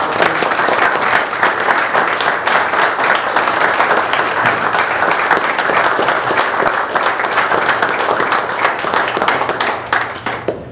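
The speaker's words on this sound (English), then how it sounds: "Can we all give a great applause?" Steady, loud applause from an audience at a township trustees' public meeting, sustained clapping filling the room for about ten seconds before tapering slightly at the end.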